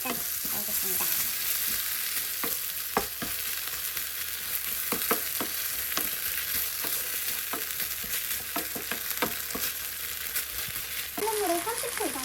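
Steady sizzling and crackling as tomato pasta sauce and cherry tomatoes are stir-fried in a hot frying pan, with scattered sharp pops and scraping stirs throughout, fairly close and continuous.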